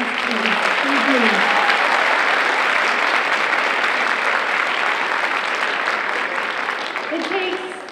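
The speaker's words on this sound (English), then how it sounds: "Give them a nice round of applause, please" Audience applause at a school winter holiday concert, loud, dense and sustained, with a few voices calling out underneath before it begins to taper at the end.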